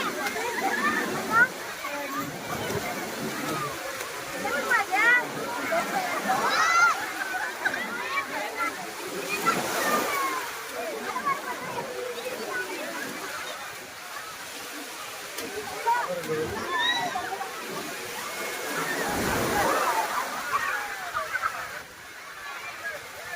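Big ocean waves roll in and crash at Marina Beach, Chennai, a continuous loud surging roar with swells that rise and fall, punctuated by a few heavier splashing surges.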